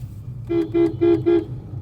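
A car horn gives four short, evenly spaced toots, loud and close, while passing a bus in busy road traffic on a downhill slope in second gear, with engine rumble underneath.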